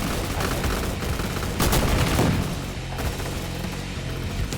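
Rapid bursts of gunfire from a World War era gun in the Roblox shooter Gun Fight Arena, loud and close, with a denser volley in the middle and steady shots throughout.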